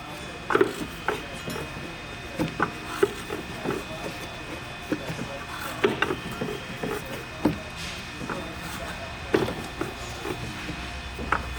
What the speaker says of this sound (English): loosen our belt removing tool and wrap the belt around the secondary, spinning it to ensure it doesn't bind